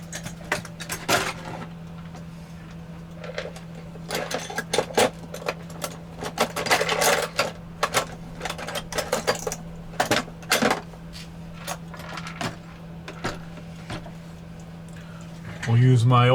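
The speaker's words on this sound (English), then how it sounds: "All right, let's get these screws out here." Screws being worked out of a Seth Thomas #2 wall clock with an old Mentor screwdriver: scattered sharp metallic clicks and taps over a steady low hum, some clustered, with a louder clatter near the end.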